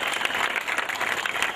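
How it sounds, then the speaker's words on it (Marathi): Loud, dense audience applause fills the whole moment as guests are welcomed at a Mahalakshmi Pratishthan program, a steady crackling wash of many hands clapping together. "जरा जोरदार टाळ्या वाजवून त्यांचं स्वागत करा."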